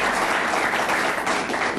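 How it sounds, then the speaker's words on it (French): A French television studio audience claps for a comic-book artist, a thick, loud and unbroken wash of applause that fills the whole short stretch. "Applaudissements pour Frédéric."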